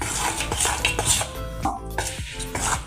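Oreo biscuit cake batter mixed with milk, stirred briskly in a bowl; quick repeated scraping and clinking of a spoon against the bowl's sides, close and continuous.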